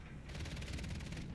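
A rapid burst of video game gunfire, evenly spaced shots rattling off in quick succession for about a second.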